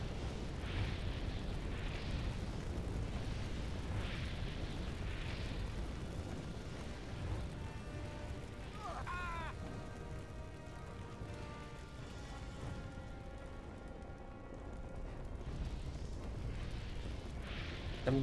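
A continuous low roaring rumble with repeated muffled booms from a fire rain spell in Gothic 3, fairly quiet and dense throughout.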